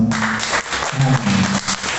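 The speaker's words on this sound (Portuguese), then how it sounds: "E se você pode, aplaudir o nome do Senhor." Members of a church congregation clap in a short burst of applause honoring the Lord's name, fairly loud and close, with faint voices and tonal sounds woven through the clapping.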